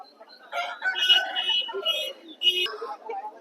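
Roosters crow at a rooster market in Vijayawada, several drawn-out, strained calls rising and falling one after another, fairly close and loud against a quiet background.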